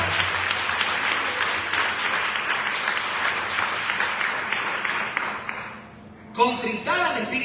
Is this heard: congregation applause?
yes